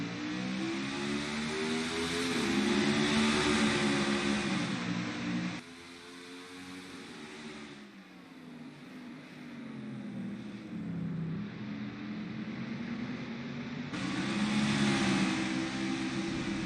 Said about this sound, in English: Bell and Reddick lead the field to the green flag, and NASCAR is racing at Horizon.